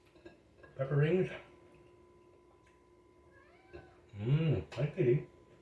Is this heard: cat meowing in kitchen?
yes